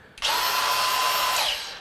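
An Arbortech contour sander on an angle grinder whirs up abruptly and spins with a high, steady whine for over a second before winding down; close and loud.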